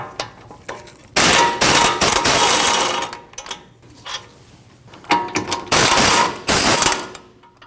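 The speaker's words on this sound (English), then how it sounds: "Your caliper bracket is held on by 2 24mm bolts. You need to remove those." Air impact gun spinning off the 24mm caliper bracket bolts on a Nissan NV2500 front brake, loud rattling bursts alternating with metallic clanks and ratchet clicks, close by.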